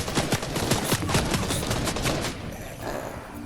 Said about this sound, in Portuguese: Opa, tem um cara me atirando